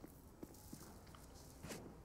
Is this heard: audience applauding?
no